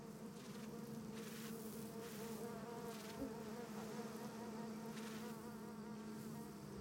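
Dense, continuous buzzing of a large mass of giant cliff bees on a comb on a rock face, steady and close, with a low droning hum and no voices.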